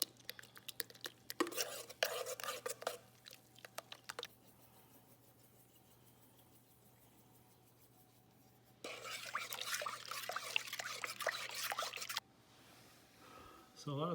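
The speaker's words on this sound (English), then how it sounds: "So now I'm just gonna kind of mix that up." Sourdough starter for bagel dough stirred in a bowl with a utensil, two bursts of wet scraping and clinking separated by a pause, fairly close and quiet.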